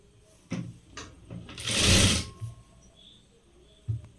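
A sewing machine stitches a blouse in short bursts, then runs in one longer, louder stretch before settling back to brief stitches. It sounds close by, with no talking.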